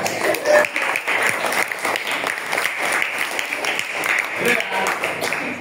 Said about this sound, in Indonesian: Oke, tepuk tangan buat saya.